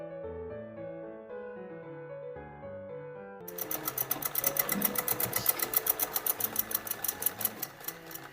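Sewing machine running at a sewing centre, starting midway after soft tonal music and then whirring in a fast, even, rhythmic stitching clatter, close and steady, with the music fading under it.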